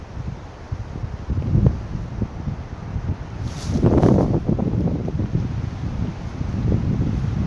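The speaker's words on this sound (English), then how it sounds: "A lot of wind today. And look at the way those trees are swaying." Strong gusts roar against the microphone as wind sweeps through swaying trees at a makeshift camp, with rustling surges swelling and easing over several seconds.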